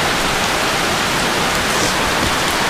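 Loud, dense rainfall in Thailand roaring steadily without a break, a thick wash of hiss close by with no voices.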